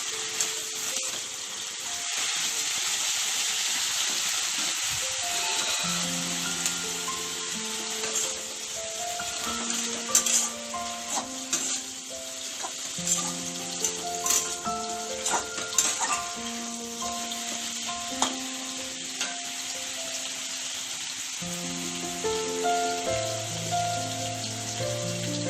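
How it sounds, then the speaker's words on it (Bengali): Bottle gourd leaves frying in a small amount of leftover oil, a steady loud sizzle with crackling pops, while softer musical notes play underneath throughout. "সামান্য পরিমাণ ওই ভাজা তেলেই আমরা লাউ পাতাটাকে ভাজবো"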